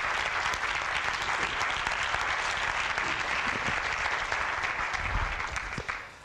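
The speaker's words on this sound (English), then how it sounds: "Applaud yourselves for creating that energy" A seminar audience applauds with sustained, dense clapping that holds steady for several seconds before tapering off at the end, close and full.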